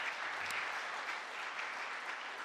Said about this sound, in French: On peut applaudir nos quatre intervenants.